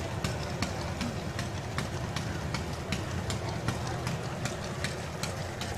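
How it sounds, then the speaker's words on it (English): A Briggs and Stratton engine at a demolition derby gives off a steady, rapid metallic ticking over a loud, rumbling idle and crowd noise. "Listen to that tick. Briggs and Stratton engine out there."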